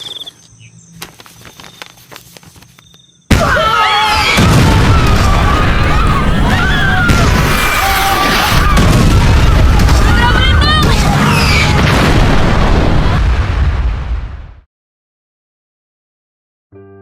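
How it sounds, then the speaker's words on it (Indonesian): Bombs exploding over Nagasaki, a sudden deafening blast that sets off a long, dense roar of rumbling and crackling destruction lasting about eleven seconds before abruptly cutting out. "Nagasaki, mereka menjatuhkan bom lagi."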